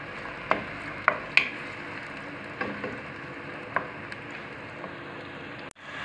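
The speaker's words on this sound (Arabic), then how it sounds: "ندير هنا زوج طرف تاع الدجاج، نديرهم هكا يتقلاو كيف كيف" Onion and chicken pieces frying in a pan, a steady soft sizzle throughout with a few sharp clicks and taps of a utensil stirring, close and fairly quiet, no talking.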